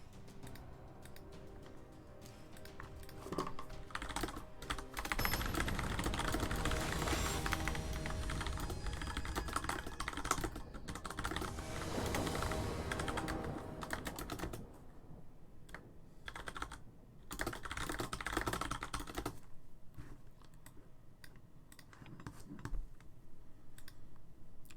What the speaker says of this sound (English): What keyboard is that? It is a DOS Keyboard Ultimate S.